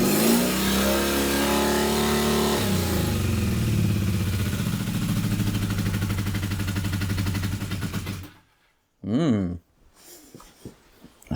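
A cold Kawasaki Z400 motorcycle engine starts and runs with a loud rough revving drone for about eight seconds, then cuts off and is followed by a brief burst of talk.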